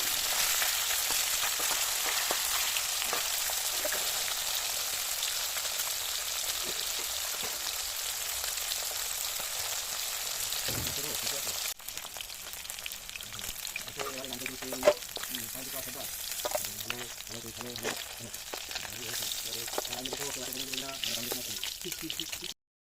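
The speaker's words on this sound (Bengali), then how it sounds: "মাছগুলো তেলের মধ্যে দিয়ে ভালো করে এপিট ওপিট ভেজে নেব" Oil sizzles and crackles loudly as tilapia fries in a pan, a steady hiss that grows softer partway through while a voice talks quietly over it.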